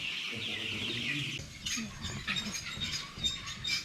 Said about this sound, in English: So in here are guinea fowl. It's a different type of bird.